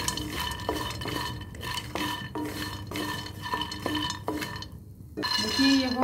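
Makhana (fox nuts) being dry-roasted and stirred in a pan, a spoon scraping and knocking steadily against the metal in repeated strokes, close and busy, with the puffed seeds rattling and a brief pause near the end.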